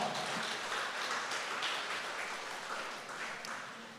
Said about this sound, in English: Give yourself a hand of applause.